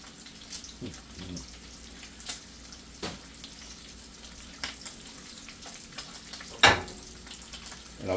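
Bacon frying in a pan with a soft continuous sizzle and occasional pops and spits, one louder crackle standing out, heard up close without speech.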